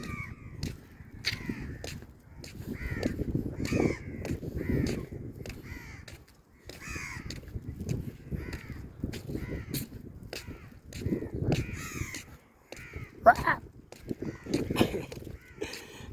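Several crows caw repeatedly in scattered bursts by the sea in Jizan, Saudi Arabia, some near and some farther off, over rustling outdoor background noise.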